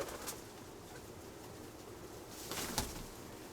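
Pet pigeons in a loft cooing softly, a few low throaty coos and faint rustling against quiet background, with a brief flutter near the end.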